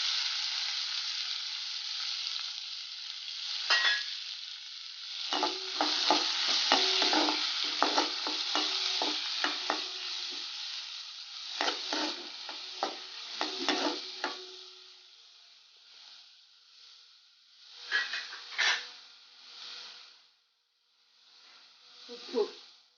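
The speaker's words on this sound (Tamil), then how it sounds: "குடமிளகா நல்லா வதங்கணுங்க" Finely chopped capsicum fries in oil with a soft crackling sizzle, stirred intermittently so the scraping and spattering rises and falls, fairly quiet and close.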